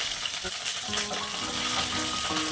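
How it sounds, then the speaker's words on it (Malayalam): Onion, mustard seeds, chili and curry leaves fry steadily in hot oil for a pumpkin curry, a continuous close sizzle and crackle with no talk. "ഉള്ളി, കടുക്, മുളക്, കറിവേപ്പിലൊക്കെ ഇട്ട് നന്നായിട്ട് മൂപ്പിച്ചിട്ട് നമുക്ക് വറുത്തിടാം"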